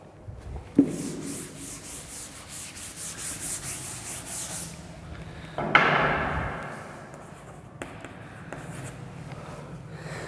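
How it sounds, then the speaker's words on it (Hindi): Eraser rubbing across a board to wipe off maths working in a classroom lesson, heard as a close scrubbing burst with a sharp start, fading over a few seconds, with no talk. "इसे रब कर देता हूँ।"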